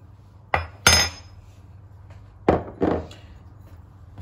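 Spoonfuls of breadcrumbs are dropped into a mixing bowl for a cheese gratin, two pairs of sharp clinks and scrapes of a spoon against the bowl, close and clear in a quiet kitchen.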